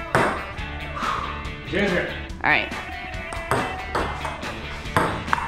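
A table tennis ball is served and struck during a casual game, with sharp, crisp taps landing at intervals beneath near-constant conversation and laughter between the players.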